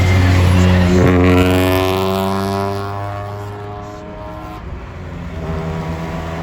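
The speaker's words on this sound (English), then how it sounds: "Okay, that car is very cool. Like you can hear it. The car that just passed us." Car passing on a highway, heard from a moving motorcycle: a loud engine note that climbs and then falls away over several seconds, under steady wind and road noise.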